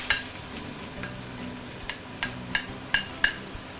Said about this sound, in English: we want to saute our fresh herbs